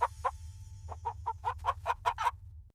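A hen clucks in a quick run of about a dozen short, sharp calls, close and loud, with a brief pause early on, over a steady low hum.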